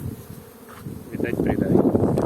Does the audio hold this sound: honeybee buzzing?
yes